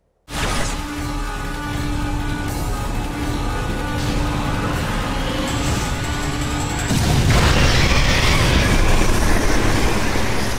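Bombs go off inside the Queen Metroid in a Metroid game, a dense, continuous rumbling roar of explosions that swells louder and heavier near the end, with no talking.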